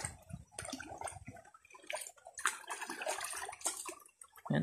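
Strong river current rushing and splashing close by, a steady turbulent wash of water with bursts of churning noise throughout.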